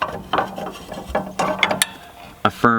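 A wrench turns the nut on a Hensley trailer hitch bar, giving a series of irregular metallic ratcheting clicks and clanks, close and fairly loud, ending in a sharper rattle.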